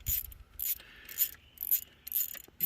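A bolt being removed on a Ford Town Car, heard as quiet, close ratcheting clicks in short repeated bursts from a hand tool working the fastener.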